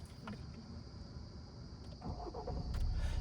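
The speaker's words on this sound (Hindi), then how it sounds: "वापस क्लच दबा के इंजन ऑन करो" A manual car's engine is restarted after stalling while reversing during a driving lesson, heard from inside the cabin, with steady background noise and a rising engine rumble toward the end.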